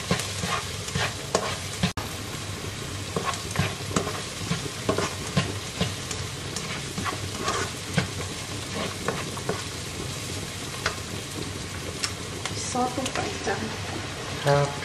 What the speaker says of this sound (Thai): กระเทียมผัดให้หอม